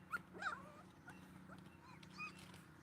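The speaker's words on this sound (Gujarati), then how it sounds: "ગલુડિયા બધા આવી ગયા મને સાંભળીને" Several puppies give short, high whimpers and yelps nearby, scattered through the clip with soft outdoor background noise on a farm where they gather around rotis; no speech.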